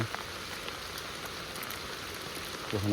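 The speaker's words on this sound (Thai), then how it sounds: "ฝนนะตกได้ตกดีพี่น้อง" Steady rain pours down, a dense even hiss of drops hitting surfaces nearby, with a faint low hum near the end.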